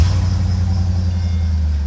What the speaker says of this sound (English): we're going to fire this bad girl up.